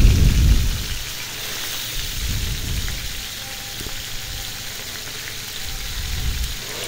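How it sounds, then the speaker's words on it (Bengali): Tuna fish frying in hot oil in a pan, a steady close crackling hiss that opens with a louder burst of sizzle and continues evenly, with no talking. "তো এই যে দেখুন আমি মাছটা ভেজে নিতেছি।"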